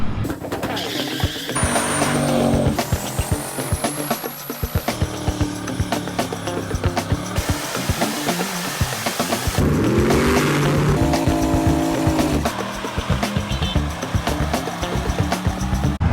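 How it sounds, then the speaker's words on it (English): A twin-turbo IROC Camaro and a GT86 with a new camshaft run at a drag track: loud, close engine roars rise and fall through repeated revs, with a high whine sweeping upward early on and no talking. "We got the IROC and the GT86 ready to run"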